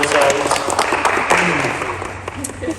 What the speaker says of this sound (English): Round of applause for them